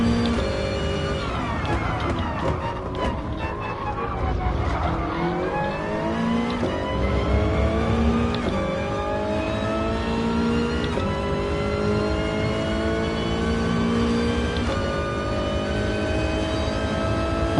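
A GT3-style race car engine in Gran Turismo Sport, an FIA manufacturers series online race, revs hard and continuously through gear changes, rising and falling in pitch, loud and close with no talk over it.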